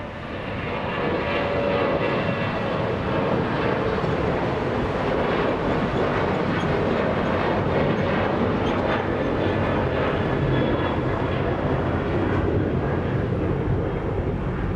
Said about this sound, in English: There goes Air France taxiing northbound on November.